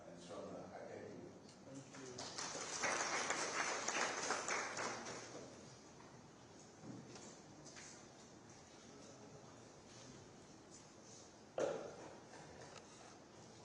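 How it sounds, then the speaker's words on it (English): Conference audience applauding after a defence chiefs' speech, heard from a distance at low level as a broad wash of clapping that swells for a few seconds and fades into room noise, with a brief sharp knock later. "Shall we please once again give him a round of applause?"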